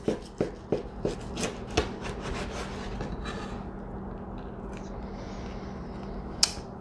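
A knife cuts through baked chicken cordon bleu wrapped in a bacon weave, a series of crisp scraping, crunching strokes close up, then quieter rustling.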